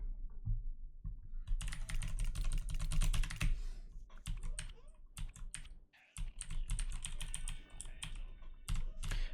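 Computer keyboard typing, with fast bursts of clicky keystrokes and button presses, close and crisp, broken by short pauses.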